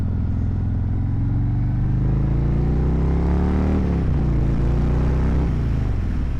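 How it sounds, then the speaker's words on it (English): A motorcycle engine runs steadily with a deep, rumbling exhaust note, revving up briefly near the end before settling back. "the exhaust on this sounds good right away too"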